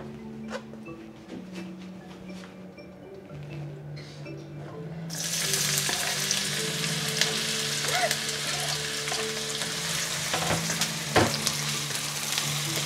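Onion dropped into hot oil for sautéing sets off a loud, steady sizzle that starts suddenly partway through and continues after a quieter stretch of low kitchen hum; no one speaks.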